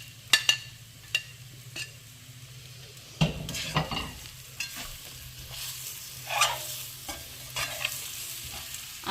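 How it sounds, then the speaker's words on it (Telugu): Fried eggs stirred in an oily pan for egg curry, a spoon scraping and clinking against the pan in irregular strokes over a soft steady sizzle, close and fairly quiet. "ఈ ఎగ్స్ కూడా వేసేస్తున్నానండి."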